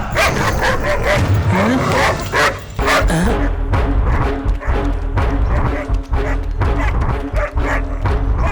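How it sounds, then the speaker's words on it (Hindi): A dog named Ruby barks and yips repeatedly, loud and close, with whimpering in between. Someone speaks over the barking in an indoor scene. "ये आखिर इतना क्यों भौंक रहा है?"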